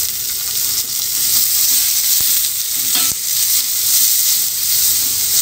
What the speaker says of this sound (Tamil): நம்ம எடுத்து வச்சிருக்க ஒரு வெங்காயம் அதை ஆட் பண்ணிக்கிறோம்.